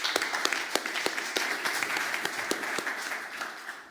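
Audience applause at a lecture on law and a just climate transition: continuous, moderately loud clapping with distinct individual claps standing out, fading slightly toward the end.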